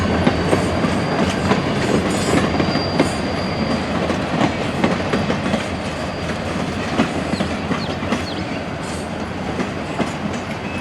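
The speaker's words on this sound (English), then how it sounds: "there goes the Caboose train. I've seen it plenty of times today, but finally got to see it going around the bend" A caboose train led by SOU 3170 rolls steadily around a bend, with continuous loud clickety-clack from the wheels and faint wheel squeal throughout.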